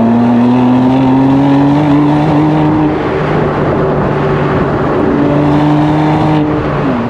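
Inside a 2020 BMW M2 CS with a manual gearbox, the engine drones loud and steady while driving, pitch rising gradually, dipping at a gear change, then climbing again.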